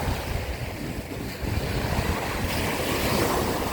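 Sea waves break and surge steadily on Jomtien beach in the evening, a loud continuous wash of surf with heavy wind buffeting the microphone.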